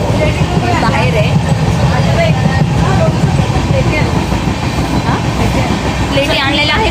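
Inside a moving, lightly filled passenger train, a loud steady rumble of the carriage with rattling and clatter underneath, while people talk throughout.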